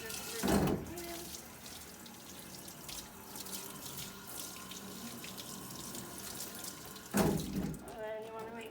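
A sink tap runs steadily during hand washing in a veterinary surgical-prep setting, a constant rushing stream with two louder splashing bursts near the start and end as hands move under the flow.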